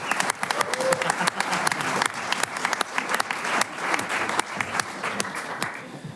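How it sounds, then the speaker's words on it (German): An audience at a Swiss folk music midsummer singing event claps steadily, a full, continuous round of applause with crisp individual claps standing out, running unbroken from start to finish. "Grossen Applaus!"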